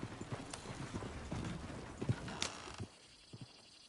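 Horse hooves clip-clopping in Red Dead Redemption 2, a few uneven hoof strikes at moderate distance over a murky background, fading into quieter scattered thuds near the end.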